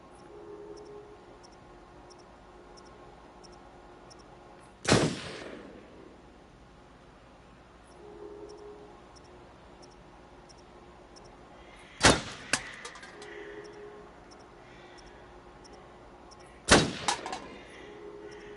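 Three sharp, loud gunshots from the Until Dawn game, fired at a squirrel several seconds apart over quiet, low ambient game sound.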